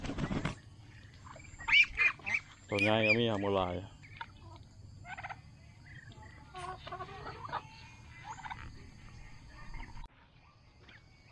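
Ducks and chickens kept together in a pen at a rural home, with scattered clucks and a loud gobbling burst standing out against quiet background, and someone speaking at intervals.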